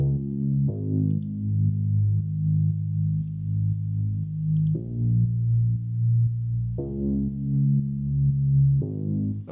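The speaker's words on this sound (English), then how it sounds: "It's in the same sort of combined layered instrument with the Rhodes pads, arpeggiator, and this lower bass line" A layered deep house instrument of Rhodes pads, arpeggiator and a low bass line plays warm sustained chords that shift every few seconds, with a soft pulsing motion and no voices.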